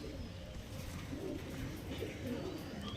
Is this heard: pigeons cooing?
yes